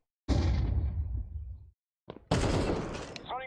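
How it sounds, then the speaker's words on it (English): A flashbang grenade going off in the game Counter-Strike 2, a loud dense burst that fades over about a second and a half, followed after a short gap by a second sharp blast with a bright ringing tail. "Throwing flashbang."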